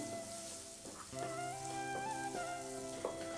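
Ridge gourd paste frying in a pan with other fried ingredients as it is stirred, a steady low sizzle with a few faint stirring scrapes. Quiet and close under a continuous background tone, with no talk.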